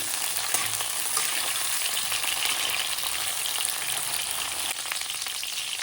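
Thinly sliced potatoes and cauliflower frying in hot oil, a dense, even sizzle with faint crackles and occasional stirring, close and continuous throughout.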